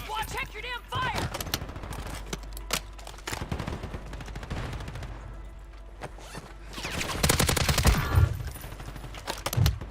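Rapid automatic gunfire and bursts of shots in the video game Warzone 3, loud and close, with short pauses between volleys and a heavier barrage near the end, while players talk over it.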